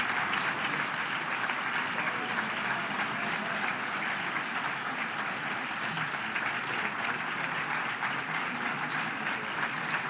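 A large audience at a medical school white coat ceremony claps steadily and densely for the full stretch, a sustained, even roar of many hands without pauses or cheering.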